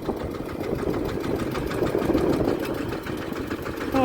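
A large tractor engine runs steadily while the vehicle is maneuvered back and forth in a village field, giving a close, continuous rattling chug with an even rhythm throughout.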